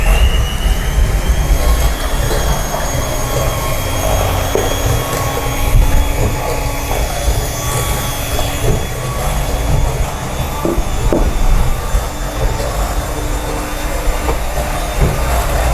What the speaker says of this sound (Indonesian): Yang pertama kita akan kocok dulu bahan A-nya